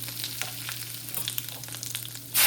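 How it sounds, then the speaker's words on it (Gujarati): Mustard seeds, cumin and asafoetida crackle and sizzle steadily in hot oil, a close, continuous frying hiss dotted with small pops, with a sharp louder burst at the very end. "હવે આપણું તેલ ગરમ થઈ ગયું. એમાં નાખી દઈશું રાઈ, પછી નાખીશું જીરું"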